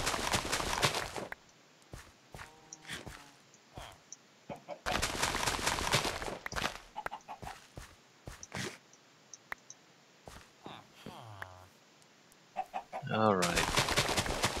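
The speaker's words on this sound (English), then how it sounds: "Chickens." Chickens cluck in the video game Minecraft, scattered short clucks between bursts of loud broadband noise, with faint talk at times.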